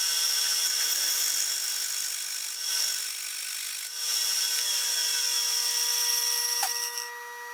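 A drill bores a hole through steel to take a rosette weld while a shop-built plasma circle jig is made, giving a steady, close, high-pitched whine that runs unbroken for about seven seconds with no talking.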